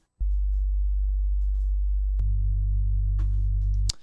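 A steady low electronic tone hums continuously, stepping up slightly in pitch partway through, then cuts off abruptly with a click.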